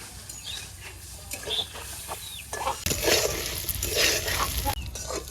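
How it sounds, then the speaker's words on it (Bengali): Crab fries in a pan with steady sizzling and crackling plus occasional stirring scrapes, growing louder partway through, with no talk over it. "কাঁকড়া ভাজা হয়ে গেছে একেবারে দেন মুসমুসি করে ভেজে নিছি"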